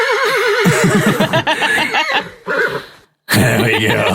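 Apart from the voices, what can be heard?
horse neighing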